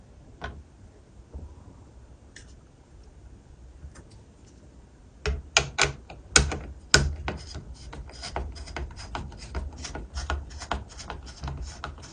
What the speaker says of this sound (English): Place the cooler in position and tighten the screws evenly.